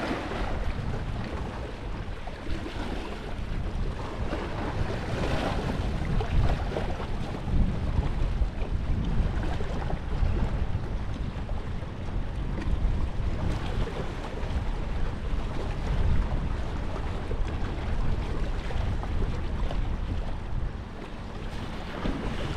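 Strong wind buffeting a rocky Anglesey beach during fishing, a continuous loud broadband rush with gusty swells and surf-like roar throughout, no voices.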